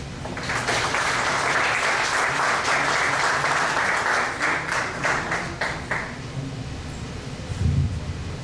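Strong audience applause at a rhetoric and argumentation seminar, a dense wash of many hands clapping steadily for about six seconds, then thinning out and fading as the room settles.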